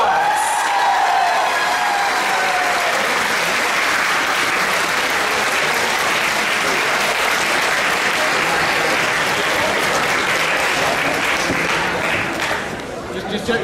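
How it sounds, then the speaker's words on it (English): Sustained applause from an audience at an FTC robotics regional qualifier awards ceremony, a loud, steady wash of clapping with some cheering that fills the whole stretch without pause. "Big round of applause, congratulations to Team 18340, Polaris Robotics."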